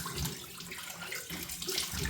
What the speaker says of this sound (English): I'm going to rinse the face with cold water